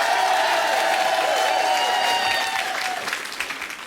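Studio audience applause on a French evening talk show, dense and loud with some cheering mixed in, easing slightly toward the end.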